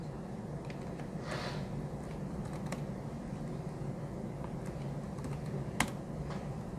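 Quick taps on a computer keyboard, scattered clicks and short bursts of keystrokes over a steady background hiss, close and fairly quiet, with no voices.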